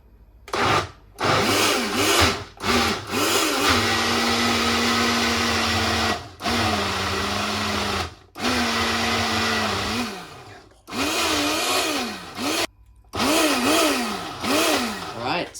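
A blender pulses a protein ice cream mixture in short bursts, loud and close. Roaring spurts with changing pitch alternate with brief silences, and several runs last a few seconds each.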